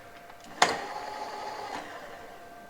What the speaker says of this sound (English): Bring our cutter down, make a little cut on this side.